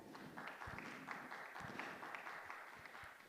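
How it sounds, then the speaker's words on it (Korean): A seminar audience at a university academic conference gives applause to welcome a life-sciences presenter, quiet and distant clapping that runs steadily for a few seconds without speech. "큰 박수로 맞이해 주시기 바랍니다"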